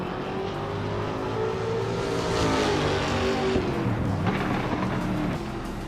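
Mazda MX-5 Cup race cars roar along in a racing video game, a loud, continuous engine drone that climbs in pitch under acceleration and then settles. No one talks.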